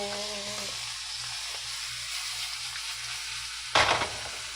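Beef steak frying in a hot pan, a steady close sizzle and hiss running throughout, with a low hum and a brief louder crackle or stir near the end; no talking.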